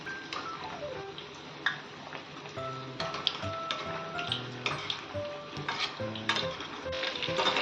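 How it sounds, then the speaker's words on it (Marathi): Soya chunks frying in hot oil over a high flame, with a steady crackling sizzle and occasional clinks of a spoon stirring against the pan. A faint musical backing plays underneath. "आणि हाय फ्लेमवर ह्याला चांगलं तळून घ्यायचं आहे।"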